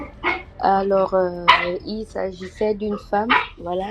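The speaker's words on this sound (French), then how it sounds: "c'est mon chien qui dérange un peu." A dog barks nearby in short repeated yaps under someone speaking French, the barks overlapping her talk.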